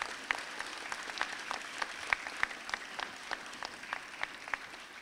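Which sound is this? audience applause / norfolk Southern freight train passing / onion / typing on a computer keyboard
audience applause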